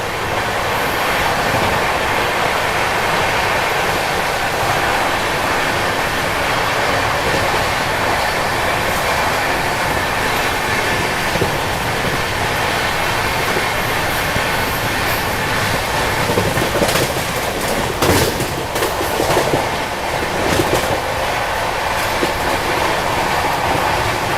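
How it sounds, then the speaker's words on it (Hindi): Delhi-Howrah Rajdhani Express rolling past Morena station, heard as a steady, loud roar of wheels and carriages with faint clickety-clack and brief squeals, continuous throughout with no talking. "अभी हम लोग स्किप कर रहे हैं मुरैना रेलवे स्टेशन।"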